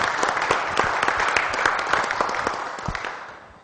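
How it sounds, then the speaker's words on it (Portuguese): An audience at a Rotary gathering applauds a speaker, steady dense clapping with distinct nearby claps standing out, moderately loud, fading slightly at the end, no talk. "Vamos aplaudi-lo."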